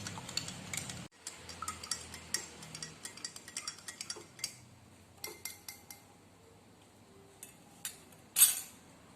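A spoon clinks and scrapes against a glass of water in quick irregular taps while stirring, quiet and close, ending with a brighter clink.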